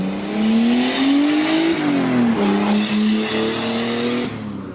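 Nissan Skyline R33 GTST with an RB25 engine at a car meet in Japan, revving loudly nearby, pitch climbing, dropping, then holding a steady raised idle before settling, with a high whistle over the engine tone.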